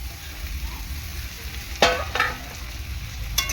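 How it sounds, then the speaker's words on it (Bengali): Raw shrimp frying among potatoes in a pan: a close, continuous oily sizzle broken by a few sharp spatula scrapes and clatters, with no talking. "এরপর আর কি চিংড়ি মাছটা দিয়ে দেবো।"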